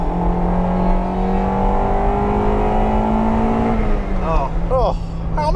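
A Honda Integra Type R engine pulls hard in a sustained rising rev that climbs into VTEC with a sharper upper-range note, heard from inside the car, before easing off as voices start reacting near the end.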